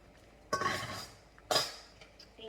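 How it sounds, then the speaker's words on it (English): Chicken and broccoli being stirred in a pan, two distinct scraping clatters of a utensil against the cookware, close and fairly quiet with no talk. "And stir this to get everything nice and coated"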